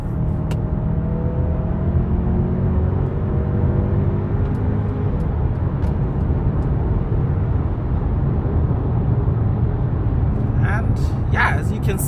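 A 2023 Mercedes-Benz GLA 200 rated at 120 kW (163 hp) is floored, its engine droning steadily as it accelerates, with rising gear tones and road rumble heard from inside the cabin.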